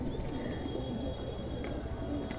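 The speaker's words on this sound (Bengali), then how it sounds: "অনেক দিন পর পায়রা ছাড়তে এলাম, পায়রা ভিডিও করছি।" Pigeons coo softly nearby as a flock is released, low murmuring calls over a steady background hum with a few faint chirps; quiet overall, with no speech.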